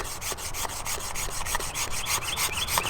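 A blade scrapes green, damp bamboo to make tinder in quick, regular strokes, each a short rasping rub, close and fairly quiet.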